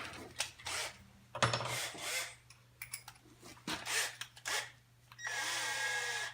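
A drill boring holes through Kydex sheet with a 1/4 inch bit for a knife sheath, heard as several short bursts of whining, grinding noise separated by brief pauses, ending in a steadier sustained run.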